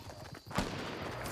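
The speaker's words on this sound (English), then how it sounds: "Oh, they're shooting." A single sharp burst of gunfire from enemy players in Fortnite rings out mid-clip over steady background game noise.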